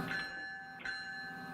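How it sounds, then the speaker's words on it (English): Electronic bell ringing in a train simulator game at the Whitehorse terminal, two bright chime strikes about 0.7 seconds apart with a lingering sustained ring, heard alone and fairly quiet. "we'll now hit the bells"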